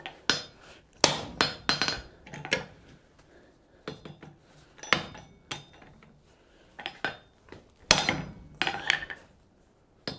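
A hammer strikes steel while a bowl stake is being shaped: sharp metallic blows land in irregular bursts and clusters, ringing loudly and close with brief pauses between groups.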